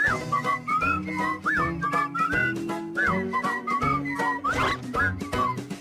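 Melodic whistling carries a bouncy tune over a steady backing of music, with quick rising and falling notes throughout.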